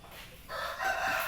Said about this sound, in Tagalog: Ito na yung shamo natin, guys.